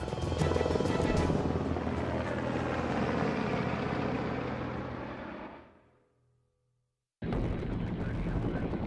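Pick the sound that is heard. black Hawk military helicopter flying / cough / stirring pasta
black Hawk military helicopter flying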